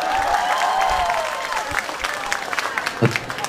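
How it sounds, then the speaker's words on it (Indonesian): An audience applauds during a religious talk, a dense wash of clapping that is steady at first, then thins out and grows uneven, with speech heard over it. "Tepuk tangan buat tukang son."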